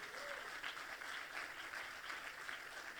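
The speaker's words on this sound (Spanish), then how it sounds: "Dale ese aplauso fuerte a Jesús." A church congregation claps steadily, a dense, continuous round of applause filling the room at moderate level throughout.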